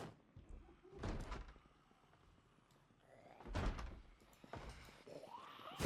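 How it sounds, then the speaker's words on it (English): Zombies banging on wooden doors in Project Zomboid: a few muffled, distant thumps in two loose clusters over a quiet background. "I can hear doors being attacked"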